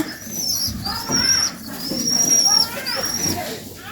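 Black country pigeons coo softly while feeding their chicks on a Noakhali pigeon farm, low throaty calls rising and falling over a few seconds as a voice talks nearby.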